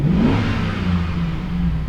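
A 2007 GMC Sierra engine warming up in a driveway revs up with a rising whine, then settles into a steady, loud mid-pitched drone close by.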